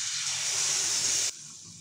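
Onion and garlic paste hits hot oil with a loud, steady hiss that drops suddenly to a quieter sizzle near the end; no voices.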